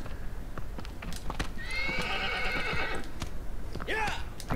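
The horse Agro neighs and gallops in the video game Shadow of the Colossus, with rapid clip-clop hoofbeats throughout, a long whinny in the middle and another short neigh near the end, close and steady.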